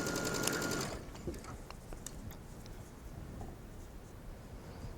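A sewing machine stitches mesh fabric around a sleeve armhole in a short rapid burst, then falls quiet, leaving faint handling noise.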